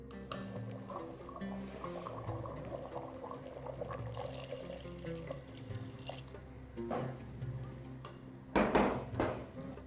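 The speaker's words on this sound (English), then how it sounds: "We add water since some of it has evaporated." Water poured into a simmering stock pot of Moroccan couscous with tfaya, a steady liquid splash and trickle over kitchen clatter, ending in a brief louder burst near the close.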